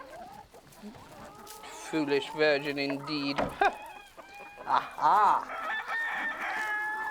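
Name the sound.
chickens clucking and rooster crowing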